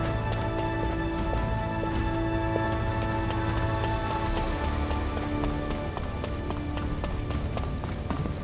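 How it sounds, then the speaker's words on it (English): Rain falls steadily in the video game The First Descendant, a dense, continuous hiss of drops pattering on surfaces that holds at an even level throughout, with no talking. "This rain is really coming down."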